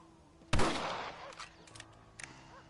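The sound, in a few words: rifle shots in video game Red Dead Redemption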